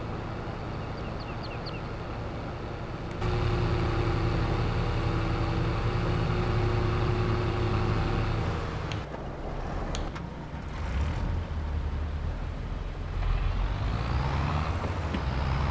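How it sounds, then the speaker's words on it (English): A tractor engine in Farming Simulator 22 drones steadily at low pitch, its tone shifting as the load changes, with a few mechanical clunks and no speech. "use this tractor for the trailer, I guess."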